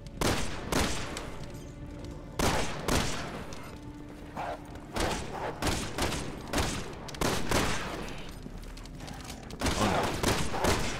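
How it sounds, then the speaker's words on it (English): Repeated bursts of gunfire in the video game Resident Evil 6, loud volleys of rapid shots spaced a second or two apart against steady game background noise. "I don't want to shoot the doggos."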